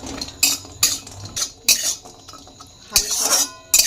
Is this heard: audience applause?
no